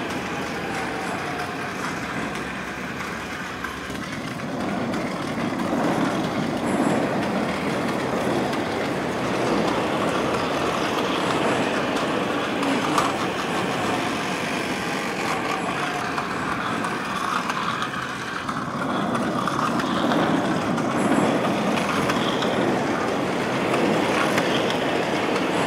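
A battery-operated toy metro train running around its track, giving a continuous steady whirring and rolling rattle for the whole stretch, close and even in level.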